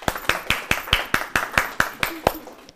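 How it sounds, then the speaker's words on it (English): Steady rhythmic clapping from a small gathering at a farm and ranch meeting, about a dozen distinct claps at a regular pace, close and moderately loud, with no voices over it. "I'd like to give a big round of applause and give Rob the floor for a little bit."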